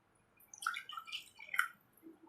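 Water poured into a pan of milk while making semolina halwa (seera), giving a few soft splashing, dripping bursts over roughly two seconds, close and fairly quiet.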